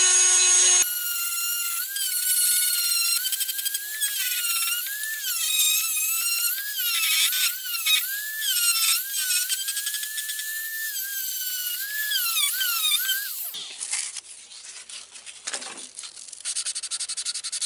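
A Dremel rotary tool polishes a steel knife blade with a steady high-pitched whine that wavers in pitch as pressure changes, runs continuously for about thirteen seconds, then spins down.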